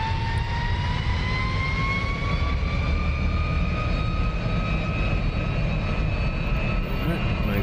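F-106 Delta Dart jet engine spooling up for takeoff in the DCS flight simulator, a loud steady roar with rising whine tones that climb in pitch throughout, continuous and close.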